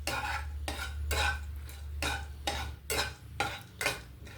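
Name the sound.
chana dal, urad dal and red chillies frying in pan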